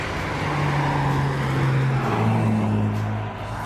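A 1966 Aston Martin DB6 engine runs with a smooth, steady hum that rises slightly in pitch partway through, then fades a little at the end, close and fairly loud.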